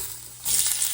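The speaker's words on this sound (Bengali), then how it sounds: "এদিকে কিছু তেলের মধ্যে খড়া মশলা আর শুকনো লঙ্কা দিয়ে দিয়েছি।" Whole spices and dried chillies hit hot oil: quiet at first, then a sudden bright hiss of sizzling that holds steady and close to the end.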